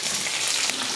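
Fennel seeds and onion fry in hot oil in a kadai, giving a steady, close, dense sizzle with no talking.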